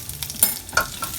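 Spices with turmeric (haldi) and red chili powder are stirred in a frying pan, a brief sizzle broken by a few quick scraping strokes of a utensil against the pan.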